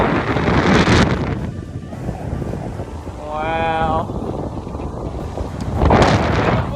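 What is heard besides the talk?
strong wind at beach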